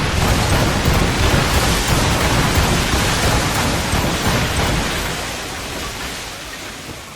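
Heavy booming broadside from ship cannons in Assassin's Creed Rogue, a dense continuous roar of blasts that fills the whole stretch loudly and slowly eases off toward the end, with no talking.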